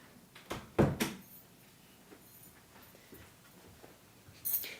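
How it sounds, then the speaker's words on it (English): A workshop door shuts with a sharp thud near the start, followed by a quieter knock and faint clatter in an otherwise quiet room. "I'm just going to shut the door because it's getting a bit noisy"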